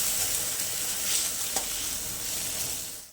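Mashed long bean bharta with garlic paste stirs and fries in a pan, giving a continuous soft sizzle with scraping stir strokes and a brief clink near the middle before it cuts off.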